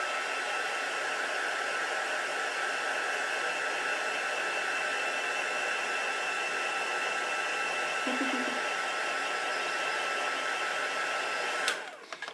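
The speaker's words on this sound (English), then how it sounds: "Like that, and then I'm just going to dry it off." A heat tool dries freshly inked stamping for heat embossing, blowing as a steady, close, even whirring hiss for about twelve seconds before it cuts off at the very end.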